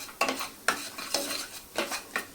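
Kitchen king masala and turmeric stirred in a pan for a Gudi Padwa thali, a spoon scraping in about five sharp, evenly spaced strokes over a soft sizzle, close and with no voices.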